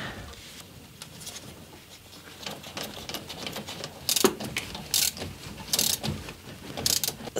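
Ratchet tightening nuts on a model Ford car, a series of quiet clicking ratchet bursts at irregular intervals, growing louder and more frequent toward the end, with faint handling noise between.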